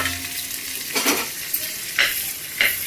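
Cumin seeds and onion halves sizzling in an Indian kadhai, a steady fry hiss with a few louder scraping stirs spaced through it, close and alone with no talk.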